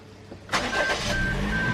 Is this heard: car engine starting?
yes